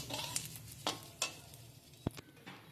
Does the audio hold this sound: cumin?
yes